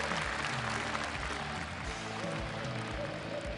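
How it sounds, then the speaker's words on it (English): Audience applause at a Quake Live esports final at IEM5, a dense continuous clapping crowd filling the hall, with cheering and some voices mixed underneath. "Give a big hand to Kula."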